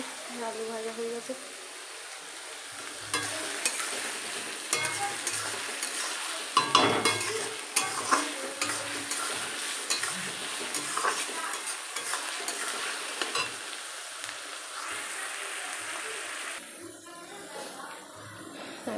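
Mutton and potatoes fry in a pan with chilli-tempered oil and onions, giving a steady sizzle. Repeated scraping stirs and clinks of the spoon against the pan break through it, and a person talks at times.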